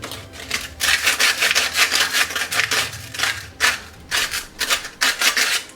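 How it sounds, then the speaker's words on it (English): Sandpaper is worked by hand over a painted, sealed papier-mâché knuckle, giving close, rhythmic scratchy strokes in quick bursts separated by brief pauses. "I'm going to sand up around the knuckle as much as we can."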